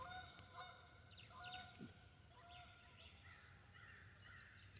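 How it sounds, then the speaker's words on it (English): Geese honking from a distance on the far side of a line of trees outdoors, repeated calls overlapping in a loose, irregular chorus, faint and continuous with no talk. "You hear the geese."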